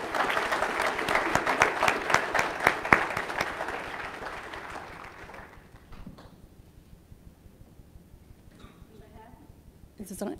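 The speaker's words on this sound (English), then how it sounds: "Let's have a round of applause for our kindergartners." A church congregation applauding kindergartners, with dense clapping for about five seconds before it thins out into scattered claps, quiet room sound and a voice starting to speak near the end.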